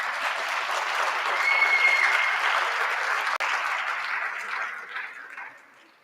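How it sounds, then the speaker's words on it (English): Students at a Sunday Grade 11 maths workshop give themselves a round of applause, a full, steady burst of clapping that swells slightly and then fades away toward the end. "Please give yourselves a round of applause for being here on a Sunday."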